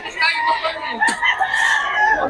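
Roosters crow among busy chatter at a Bocaue poultry market, several birds overlapping with drawn-out calls, close and fairly loud under continuous talk.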